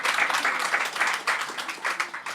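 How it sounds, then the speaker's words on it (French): Audience applause in a French talk show or podcast setting, a fairly soft but steady patter of many hands clapping, with no voices over it. "par applaudissement"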